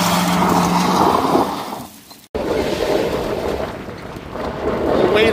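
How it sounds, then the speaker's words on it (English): A 1968 Ford hot rod drives along with a loud, rough engine roar mixed with heavy wind buffeting on the microphone, briefly dropping away before surging back up steadily. "It's time to take this bad boy for a drive."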